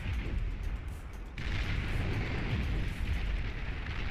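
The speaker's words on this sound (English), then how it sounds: "And here comes the Banisher rocket." Banisher rocket fire and explosions in the strategy game Beyond All Reason, a loud, dense rumble of blasts and booms that surges after the first second and carries on heavily, with no talk over it.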